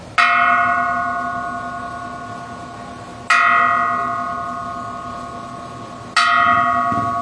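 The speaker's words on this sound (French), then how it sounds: "La cloche." Three loud, ringing strikes of a temple bell in Isan, Thailand, evenly spaced about three seconds apart, each with a bright metallic attack and a long humming decay that hangs until the next stroke.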